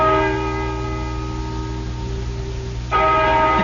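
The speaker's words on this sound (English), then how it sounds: "Listen to that bell." In a radio mystery drama set by an old barn, a deep, resonant bell rings with a long sustained tone, then is struck again near the end, the toll swelling loudly and alone.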